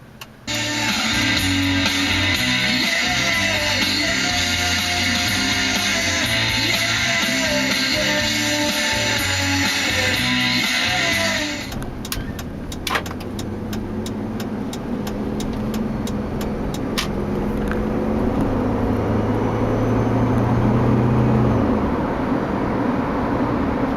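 A 2002 Jeep Liberty Limited driving along, its engine humming steadily under road noise, then the tone shifts to a rougher tire rumble with a few sharp clicks and a rising engine note near the end.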